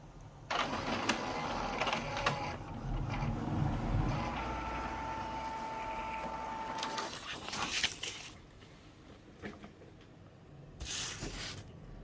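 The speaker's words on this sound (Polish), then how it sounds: "czyli dwójeczka i drukarka drukuje nam" An Epson Stylus Office BX305FW inkjet printer prints a test page, with quiet mechanical whirring and print-head passes running for several seconds, then stopping, followed by brief clicks and feed noises.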